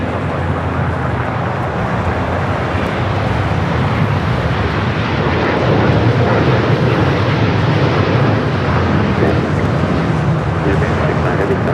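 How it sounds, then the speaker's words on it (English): An Emirates airliner taxiing toward the gate at Tom Bradley International, LAX, a loud continuous broadband jet engine roar that stays even and near throughout, with no clear speech. "Emirates heading into the gate of Tom Bradley International"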